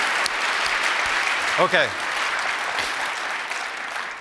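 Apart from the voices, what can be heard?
audience applause at a keynote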